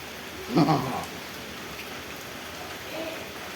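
Steady rain falls on a house, a continuous soft hiss that lasts throughout, with a brief voice rising over it early on.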